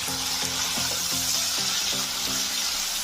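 Potatoes frying in oil with a little salt and turmeric, for a vegetarian okra and potato curry, make a steady hissing sizzle throughout, with gentle music playing underneath.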